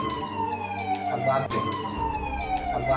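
An air raid siren wails, rising and falling continuously, loud and steady over a rumbling background, with faint voices mixed underneath.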